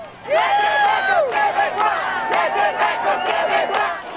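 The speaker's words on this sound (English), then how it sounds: "The chant in the streets today was Quebec for Quebecers." A large crowd chanting in the streets of Montreal at a Quebec independence rally on a traditional Quebec holiday, many voices shouting together in loud rising and falling cries that keep going without a break.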